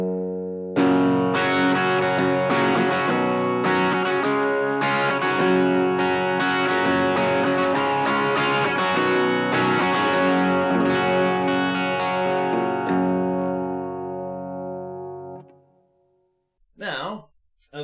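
An electric guitar through a NUX Mighty Lite BT practice amp plays a distorted, effected phrase with a roomy reverb tail that rings out and fades, followed by a brief voice at the end.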